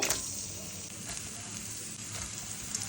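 Sliced onions fry in hot oil for biryani beresta, giving a steady, close sizzle that stays even throughout, with no talk.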